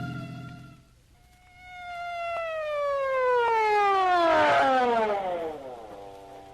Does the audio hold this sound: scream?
no